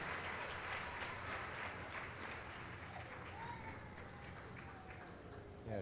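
Large audience applauding at the live naming ceremony of the cruise ship MSC Seaside, steady dense clapping throughout, close and loud with crowd noise beneath.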